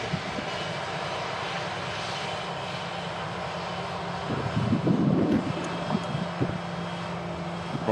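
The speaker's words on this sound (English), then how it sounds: "Ryanair rolling down the runway." A Ryanair airliner rolls down the runway at Manchester Airport, its jet engines a steady roar that swells briefly midway, heard from a distance with light wind noise.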